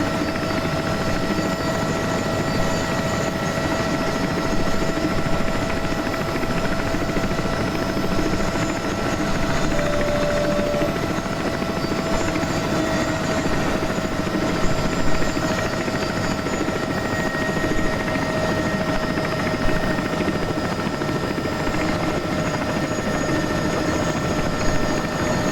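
A Bell 206B3 JetRanger helicopter in flight during training approaches, its turbine whine and rotor thrum steady and close, a continuous drone with no speech.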